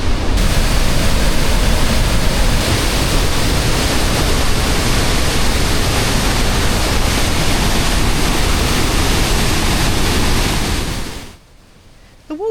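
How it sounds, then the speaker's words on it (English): A large waterfall about 60 metres wide drops 38 metres into Lake Noren in Sweden, a loud, steady, broadband roar of rushing water that cuts off abruptly near the end. "The waterfall is about 60 metres wide and drops 38 metres into Lake Noren."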